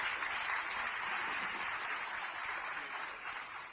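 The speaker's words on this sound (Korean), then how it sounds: "그럼 다시 한번 큰 박수 부탁드립니다" Audience applause at a ceremony marking the 54th anniversary of a national women voters' league, a steady wash of many hands clapping at moderate level, holding evenly for a few seconds before easing slightly.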